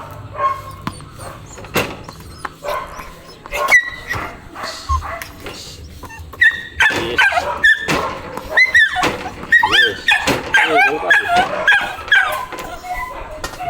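A Belgian Malinois working dog in ball-reward training gives excited barks, whimpers and squeaky yelps, getting busier and louder in the second half, with thumps and a faint voice in the background.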